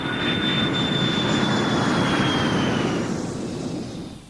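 A steady roar of an aeroplane passing overhead, loud and continuous with a high whine, fading slightly toward the end.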